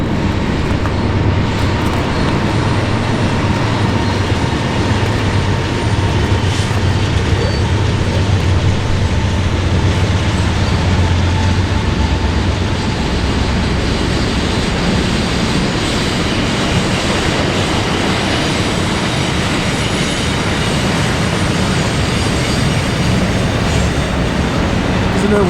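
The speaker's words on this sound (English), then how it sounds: "Oh, it's a train." A train rumbles steadily through a valley beside calm water, a loud continuous roar and rattle that holds for the whole stretch without letup.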